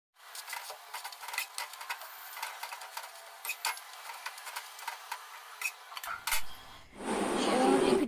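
A spoon scrapes and clinks in a pot of kheer, a string of short irregular strokes near the mic, then a burst of louder kitchen noise at the end.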